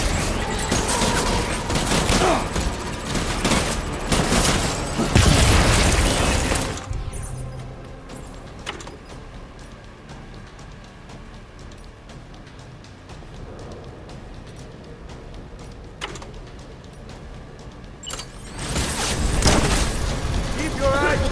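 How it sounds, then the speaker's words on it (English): Heavy gunfire from the video game Death Stranding, dense bursts and booms for the first several seconds, then a quieter stretch of low rumble before loud firing returns near the end, with voices mixed in. "Opening fire"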